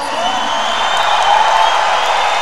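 Arena crowd at the men's 109 kg European Weightlifting Championships cheering to welcome a lifter, a loud sustained roar with whoops and some applause, steady throughout.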